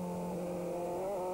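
A British Formula 3 race car at Brands Hatch accelerates hard, its high-pitched engine note steady and rising slightly over a short, loud burst before cutting off abruptly.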